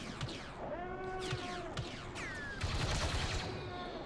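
Sci-fi blaster gunfire from Star Wars Battlefront II crackles in quick bursts alongside whining, sweeping energy tones, fairly faint and distant, layered through a busy battle soundscape.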